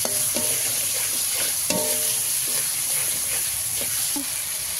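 A salted, lightly sweetened mixture is sautéed in a pan, a continuous sizzle and hiss with repeated scraping knocks of a spoon stirring it.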